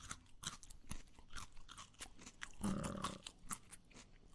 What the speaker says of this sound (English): Sounds like something or someone is chewing.